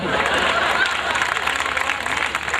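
Applause from an audience at a Hindi comedy gathering: a thick, continuous wash of clapping from many hands, steady and fairly loud, with crowd noise mixed in.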